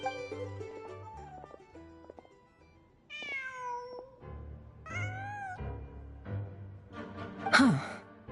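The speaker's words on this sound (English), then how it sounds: "Just a cat." A cat meows several times in the video game Luna IV, clear upward-gliding calls over soft game music and background tones, ending in a louder, sharper meow.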